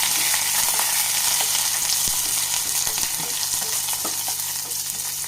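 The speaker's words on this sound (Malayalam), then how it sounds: "ഇനി നമുക്ക് വേപ്പില ഇട്ട് കൊടുത്തിട്ടുണ്ട്. 2 വറ്റൽമുളകും കൂടി ഇട്ട് കൊടുക്കുന്നുണ്ട്." Curry leaves and two dried red chillies sizzling in hot oil for a mango curry tempering, a loud, dense crackle filling the whole span with scattered pops and stirring taps, no talk.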